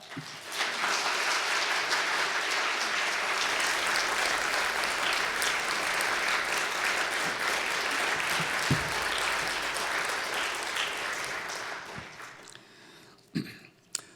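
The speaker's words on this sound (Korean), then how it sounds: "우리 목사님 나오실 때 우리 큰 박수로 맞이하면 좋겠습니다" Church congregation applauding to welcome the pastor, long sustained dense clapping filling the hall, fading toward the end with a few scattered claps.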